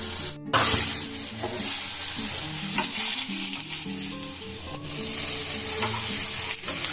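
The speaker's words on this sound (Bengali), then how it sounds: "একদমই মিডিয়াম টু লো ফ্লেমে ভাজবেন, আর পুড়ে যাতে না যায়" Bora fritters frying in hot oil over a medium flame give a steady, close sizzle with bubbling and crackling that runs throughout, alone.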